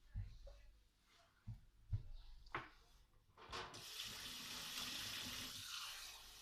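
Water splashing and flowing in the video game Minecraft, a few short splashes giving way to a steady, fairly loud rush of running water, with faint talk early on.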